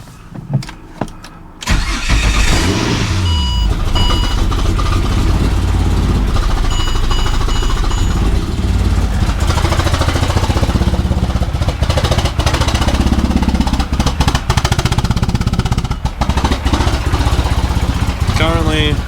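A Ford BA drift ute with a manual gearbox cranking and firing, then running roughly, a loud, ragged, uneven engine roar close by that holds throughout, with a voice briefly heard over the starter at the start.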